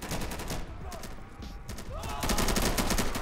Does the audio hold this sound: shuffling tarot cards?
no